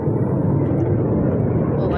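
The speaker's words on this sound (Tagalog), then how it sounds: "Aeroplano ba yan? Maingay." An airplane passes overhead during an outdoor walk, heard as a loud, steady low roar filling the whole stretch while a person speaks over it.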